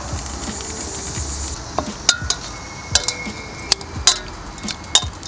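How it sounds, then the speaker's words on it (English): Chicken wings being tossed in jalapeno mango BBQ sauce beside a grill running on full heat, heard as a low wet rustle broken by a handful of sharp clinks and taps from utensils and dishes. "I'm gonna lightly toss them in that"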